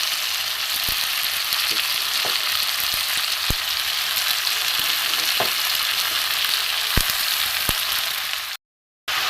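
Chopped cabbage sizzles steadily in a pan of fried potatoes and peas, a constant close frying hiss broken by occasional sharp clicks of a utensil against the pan, with a brief dropout near the end.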